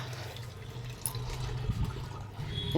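Water poured from a container onto potted coriander and other plants on a house rooftop, a steady soft splashing and trickling that stays close and continuous throughout.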